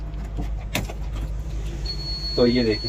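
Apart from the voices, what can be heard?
beep in JCB 3DX backhoe cabin after key insertion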